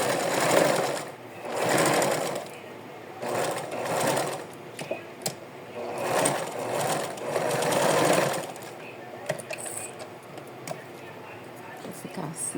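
A sewing machine stitches the ruffle of a doll dress in repeated loud bursts of rapid whirring, pausing between runs, with someone talking in the gaps and over the stitching.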